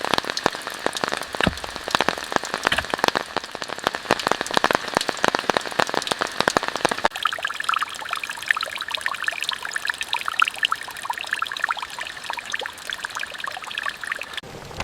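Heavy rain pours in a forest around an underground shelter, dense pattering drops and trickling water, loud and crackly at first, then settling into a softer, steadier patter.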